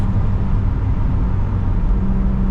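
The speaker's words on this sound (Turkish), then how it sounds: "Arabayla tanışalım diye hafif tempolu gidiyorum." A BMW E36 Compact with a four-cylinder engine cruises at an easy pace on damp roads, giving a steady, close interior engine drone and road rumble with no talk over it.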